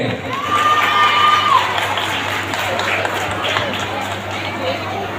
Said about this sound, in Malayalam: ഒന്ന് കൈയടിച്ചേ, പ്രോത്സാഹിപ്പിച്ചേ.